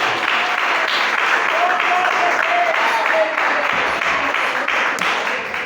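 Congregation at an evangelical church service clapping in praise, a steady, dense wash of hands filling the room throughout, with voices mixed in underneath.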